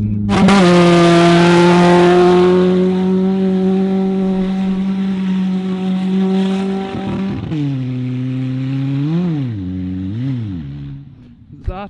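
A car engine is revved hard and held against the rev limiter, a loud, sustained droning tone that later falls and rises in several quick revving swells, with a voice breaking in near the end.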